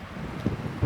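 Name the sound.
wind blowing outdoors into the microphone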